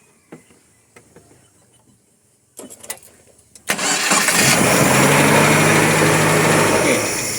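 A Nissan C22 Vanette van with an ignition fault cranks in a few short bursts and then starts, settling into a loud, steady idle close by.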